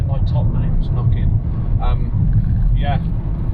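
Cabin rumble of a Volvo S60 on a rough road, with a deep steady engine and road drone and faint irregular knocks from worn suspension top mounts, while someone talks over it.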